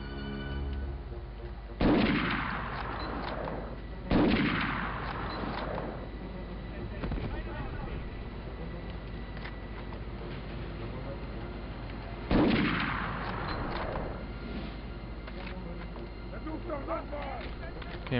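Medal of Honor PS1 video game gunfire: three heavy, booming sniper rifle shots, each followed by a short decaying echo, spaced unevenly over a low steady game background hum.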